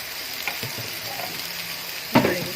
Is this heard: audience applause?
no